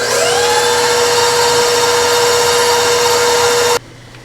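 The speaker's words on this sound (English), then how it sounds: "Scrape down the paddle and mix some more." A stand mixer's paddle whirs steadily through a gelatin mixture, a loud continuous motor drone with a rising whine at startup that runs unbroken before cutting off abruptly near the end.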